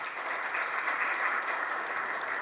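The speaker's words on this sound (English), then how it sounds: "You want to give him a bigger round of applause." A crowd at a business banking launch event gives sustained, even applause, a dense wash of many hands clapping at moderate distance throughout.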